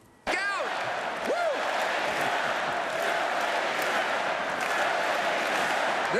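A rally crowd cheering and applauding, erupting suddenly into a loud, sustained wash of claps and whoops that holds steady to the end, with sharp shouts rising above the din.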